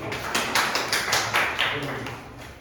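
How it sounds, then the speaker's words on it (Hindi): Audience clapping for teachers at an experiential learning session, a series of separate claps at an uneven rhythm, moderately close, with voices talking underneath. "हाँ भाई ठीक है, ताली बजाएंगे।"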